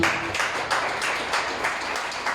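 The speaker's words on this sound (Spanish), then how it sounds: "Dale una ofrenda de palmas al Señor" A church congregation claps together in a sustained round of applause, with repeated loose swells of hand claps filling the room.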